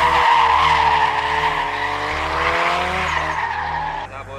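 A stock CA-engined Nissan S13 drift car revs hard and climbs in pitch, stepping up through repeated surges while tires hiss and squeal beneath it, loud and close.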